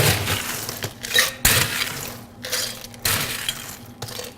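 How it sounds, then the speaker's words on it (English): Ice cubes tumble into a cocktail mixing tin until it is about two-thirds full. Several loud, clattering bursts come close together, each fading quickly. "we're going to fill our mixing tin about 2/3 full of ice"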